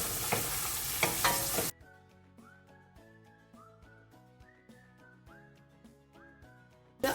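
Tomato and green chilli frying in a pan for a kids' pasta dish, a loud sizzling burst at the start giving way to quieter frying under a repeating whistled melody, with no talking.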